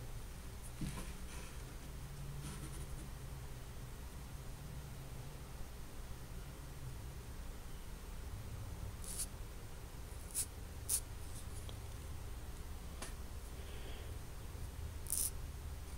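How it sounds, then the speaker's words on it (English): A sharpened knife blade shaving hair off a forearm gives a faint, steady scratchy rasp with a few brief crisp ticks near the end, heard alone and quiet. "Well, it's taking the hair off."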